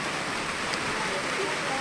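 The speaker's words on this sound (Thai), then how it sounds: "ฝนตก" Steady, even hiss of rain falling, a dense continuous wash of noise throughout with no distinct drops standing out.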